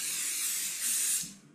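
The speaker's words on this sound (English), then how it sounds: "I'm now going to spray some fiberfar spray." Fabric adhesive spray for quilting hisses from an aerosol can in one steady burst of about a second, close and even, then tapers off.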